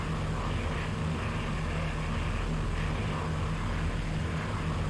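A video-game propeller airplane engine drones steadily with a constant low hum and buzzing overtones, continuous and unchanging.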